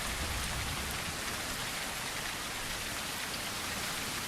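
Steady rain falling in the Mars survival game Blind Descent, a dense even hiss with low rumbling patter throughout, close and continuous with no voices.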